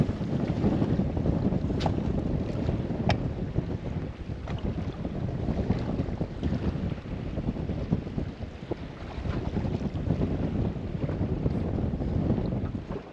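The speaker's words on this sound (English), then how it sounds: "Downside, wind. Upside, wind. So it might help our fish catching, but not great to film in." Strong wind buffets a fishing boat out on the water, a steady loud roar of gusts and microphone wind noise with faint knocks and splashes throughout, no voices.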